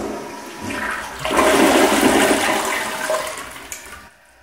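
A Kohler Highline toilet flushes with a powerful, loud rush of water that builds quickly, holds steady for a few seconds, then tapers off as the bowl refills, with no voices over it.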